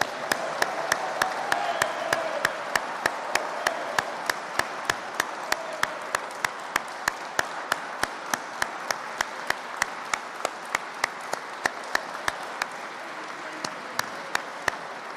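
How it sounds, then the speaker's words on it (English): At a state Veterans Day ceremony in Massachusetts, the crowd gives a long, sustained round of applause for a 98-year-old veteran. Steady massed clapping runs throughout, with sharp, regular nearby claps standing out above it. "we want to give him a round of applause."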